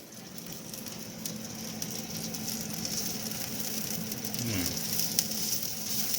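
Bacon-wrapped filet mignon cooks in a pan with a faint, steady sizzle and light crackle, with a brief low clunk or scrape near the end and no voices.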